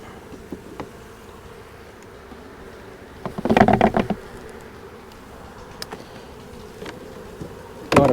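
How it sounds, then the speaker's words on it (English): Honeybees hum in a beehive box, a steady close buzz that swells briefly with a burst of louder activity and a few light taps on the wood. "A lot of bees in the box."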